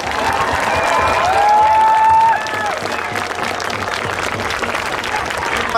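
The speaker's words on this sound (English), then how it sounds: "let's give a round of applause to the National Chief and Phil Fontaine" A crowd at a rally opposing Bill 5 gives a round of applause for the National Chief. Dense, loud clapping with a few cheers fills the first few seconds, then continues more softly.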